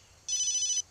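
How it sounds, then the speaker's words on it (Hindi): A mobile phone ringtone gives one brief, bright electronic trill under a second long, standing out clearly above a quiet background. "उसी का फोन है।"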